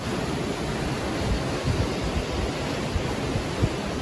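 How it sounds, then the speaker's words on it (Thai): Steady, soft wash of ocean surf at a beach in Hua Hin, a continuous broadband rush with slight swells and no voices. "จะเป็นคลื่นแบบนี้เดี๋ยวให้ดูนะฮะ"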